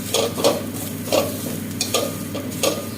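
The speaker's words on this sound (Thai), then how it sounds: "ใส่พริกแห้งลงไปคั่วให้หอม" A spatula scrapes and stirs dried chilies dry-roasting in a hot pan in quick, rhythmic strokes, with a light sizzle underneath.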